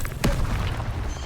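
A single sharp blast from the Confringo spell in Hogwarts Legacy bursts out loudly, a quick booming crack that decays into a low rumble over a second.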